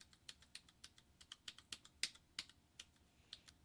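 Typing on a computer keyboard: a quick irregular run of crisp key clicks, close and fairly quiet, with no talking.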